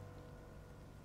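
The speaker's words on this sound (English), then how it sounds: "Oh, it started to rain." Steady rain in The Legend of Zelda: Tears of the Kingdom patters softly and continuously, faint and even with no voices.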